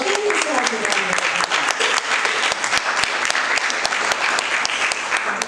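Audience at a Democratic candidates' forum applauds steadily throughout, a dense wash of many hands clapping close and loud, with no break in the sound.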